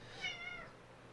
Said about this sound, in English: What's with my cat? I've never heard them make that noise before.